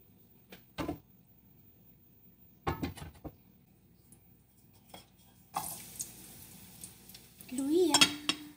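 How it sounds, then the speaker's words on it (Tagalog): Spring onion and ginger sautéing in hot oil in a kitchen pan, a sizzle that swells as the ingredients hit the oil, along with scattered clinks of utensils and stirring against the pan. "So, igigisa na natin ang dahon ng sibuyas at luya."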